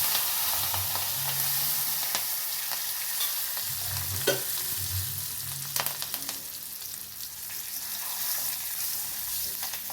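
Curry leaves crackle and sizzle in hot oil for a tempering for an amla pickle. A continuous frying hiss runs under scraping stirring sounds, with a few sharp clinks from the pan, and no one speaks.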